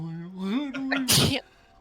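A single loud sneeze during a comedic tabletop roleplaying session: a rising voiced intake breaks into a sharp, breathy burst that fades quickly, close to the microphone.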